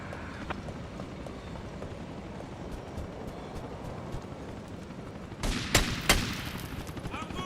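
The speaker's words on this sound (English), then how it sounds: "who's shooting at me?" Gunfire in Grand Theft Auto: Vice City, a busy game scene with low ambient rumble, scattered shots, then a louder cluster of sharp bursts near the end, with some voice underneath.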